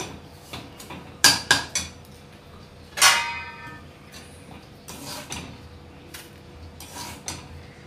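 A spoon scrapes and clinks against a metal kadhai while scooping out roasted semolina, in a few sharp, uneven strokes, then softer scraping with occasional taps.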